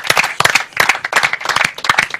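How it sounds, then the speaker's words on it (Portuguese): A studio audience claps for a comedian being introduced on a talk show, a dense, loud burst of applause that swells in rhythmic waves with no voices over it. "é a salva de palmas, fica sempre bem"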